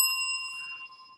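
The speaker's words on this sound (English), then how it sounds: "And you get a bell." A single bright bell ding rings out as a sound effect, clear and ringing, then slowly fading over about a second with no other sound.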